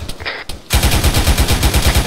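Gunfire from the military shooter ARMA 3: a couple of sharp separate shots, then a loud, rapid, sustained burst of automatic fire that rattles on steadily until the end.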